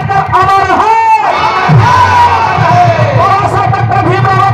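A loud crowd at a gathering honoring Babasaheb Ambedkar shouts a slogan in unison, with a lead voice calling out and many voices answering in a rhythmic, rousing roar that fills the whole stretch.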